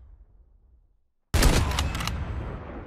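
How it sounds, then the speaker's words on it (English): A single sharp shot from the LW3 Tundra sniper rifle in COD Mobile cracks out after a second of near silence, followed by a lingering, fading echo. "that sounds like the new sniper here, too"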